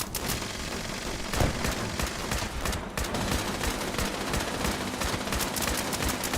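Top-level guns fire in the Fallout 76 video game, a relentless, dense barrage of rapid automatic gunfire with overlapping shots rattling continuously and loudly throughout.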